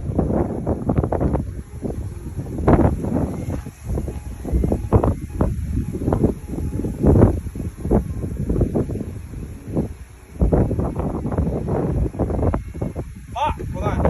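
Gusty wind outdoors buffets the microphone with a steady low rumble and rustle throughout, while a person talks over it.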